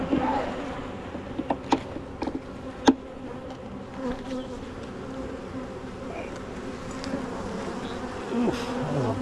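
A dense, steady buzz of many honeybees swarms close around an opened beehive during an inspection, with a few faint knocks and taps from handling the hive under the continuous hum.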